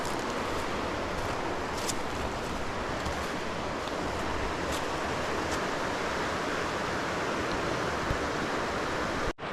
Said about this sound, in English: Look at this beautiful river. Look how clear that water is.